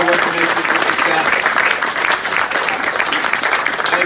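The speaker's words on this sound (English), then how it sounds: "just give a big round of applause to Carol" An audience at a riverside river-of-the-year event applauds Carol, the Middle Susquehanna Riverkeeper and partners: dense, sustained clapping from a sizable crowd, loud and even throughout without a break.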